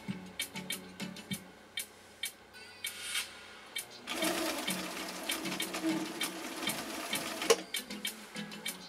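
Viking 6370 sewing machine stitching compressed felt, with a run of quick rhythmic needle taps and short mechanical bursts that settle into a longer continuous buzzing whir midway, nearby and moderately loud.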